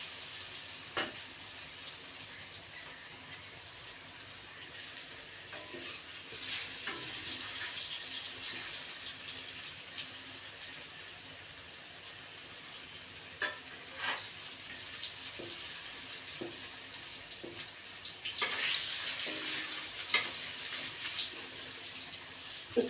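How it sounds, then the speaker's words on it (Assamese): Potatoes fry in a pan for a simple chicken curry, giving a soft, continuous sizzle broken by occasional clinks and scrapes of stirring, with no one speaking. "আলুখিনি ৰঙা হোৱালৈকে ভাজি থাকোঁ"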